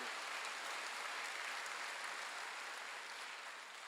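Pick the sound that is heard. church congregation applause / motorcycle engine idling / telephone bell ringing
church congregation applause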